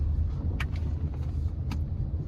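Congested road traffic in the rain, where a continuous low rumble of car and bus engines sits close by and a couple of short sharp ticks cut through, with no voices.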